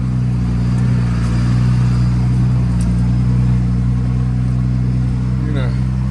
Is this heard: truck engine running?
yes